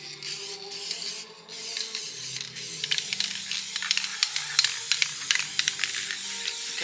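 Dupli-Color clear coat is sprayed from an aerosol can onto BMW 650i convertible wheels, with close hissing bursts separated by brief pauses and a rapid rattling clicking texture building through the later passes.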